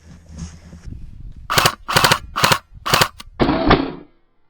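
Airsoft guns fire during an outdoor airsoft skirmish in Poland: a quick series of sharp, loud cracks, several distinct shots close by in an uneven rhythm, with no voices over them.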